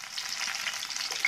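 Potatoes fry in a pan over a high gas flame, a brief close, steady bright sizzle with fine crackle and no voices.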